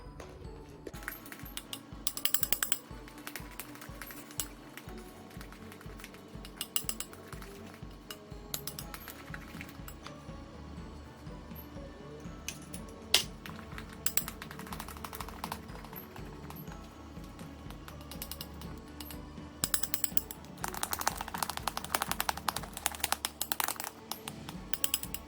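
Egg whites being mixed into gluten-free chocolate cake batter, a steady faint scraping and clinking of utensil against bowl with rhythmic strokes, growing busier and louder toward the end, no voices.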